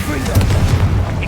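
Incendio fire spell cast in Hogwarts Legacy: a loud, steady low roaring rumble with a fiery burst, lasting a little over a second.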